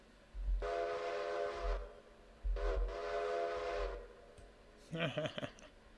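A steam locomotive whistle in the railroad video game Railroader sounds two long, steady blasts with a short gap between them. A voice follows at the end.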